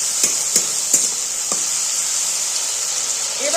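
Ground pepper, dried chili and soy sauce stirred in a pan, a steady hiss of sizzling under a few sharp taps and scrapes from the spoon early on, with no voices.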